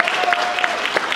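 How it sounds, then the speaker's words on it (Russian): Audience applause at a university freshmen-week talent show, a dense burst of many hands clapping at close range, steady and lively throughout. "Аплодисменты."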